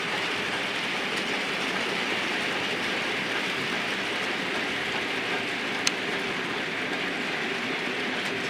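A Class 44 Peak type 4 diesel locomotive, D1 Scafell Pike, hauls an oil train from Carlisle toward Aintree past Dent Station. It makes a steady, broad rumble at moderate distance that holds evenly throughout, with one brief sharp click.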